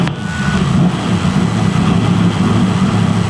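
A race car with a sequential gearbox idling loud and close after start-up, a steady deep rumble with slight rises in revs throughout.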